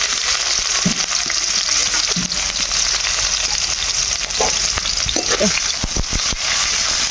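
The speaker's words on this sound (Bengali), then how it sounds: "তেলটা গরম হয়ে গেছে, পেঁয়াজ দিয়ে দিলাম" Onions hitting hot oil in a kadai, a loud, steady sizzle close by, punctuated by spoon scrapes and taps against the pan.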